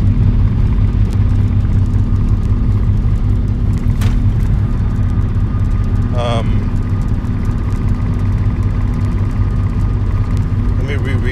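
Steady low engine and road rumble from a car fills the whole stretch, loud and continuous, with a couple of faint brief ticks and chirps on top.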